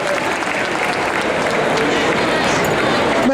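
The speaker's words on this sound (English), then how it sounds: "Well done, give him a round of applause." Spectators at a Crufts 2014 Kennel Club Good Citizen dog display applaud a handler and dog, a steady, loud sheet of clapping from a large arena crowd throughout.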